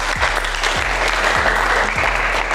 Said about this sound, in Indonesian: Oke, tepuk tangan yang meriah untuk kita.